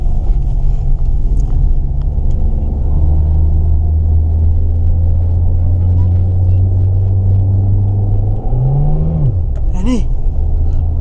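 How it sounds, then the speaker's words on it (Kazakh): Car engine rumbling loud and steady from inside the moving vehicle, with a deep drone that shifts pitch as it revs near the end and a few soft knocks. "Руслан машина айдап жатыр"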